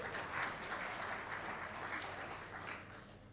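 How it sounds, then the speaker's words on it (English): An audience at a school district's State of Schools event gives a sustained round of applause, a steady dense wash of many hands clapping together without talk. "Let's give her a nice round of applause."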